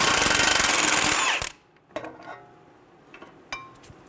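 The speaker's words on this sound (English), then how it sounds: "we're going to use a 24mm socket to remove the nut" Impact wrench loosening a nut with a 24mm socket on a 2011-2014 Hyundai Sonata front backing plate, a loud sustained rattling burst for about a second and a half, then quiet with a few light metallic clinks of tools.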